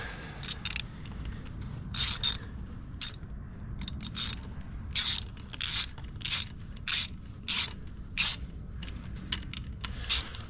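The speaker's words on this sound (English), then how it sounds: "We'll torque them down with the torque wrench." Torque wrench tightening bolts on a Yamaha WR450 dirt bike, a series of short, crisp ratcheting bursts repeated about a dozen times at an uneven pace, close and clear over a low background hum.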